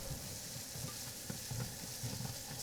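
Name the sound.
frying in a pan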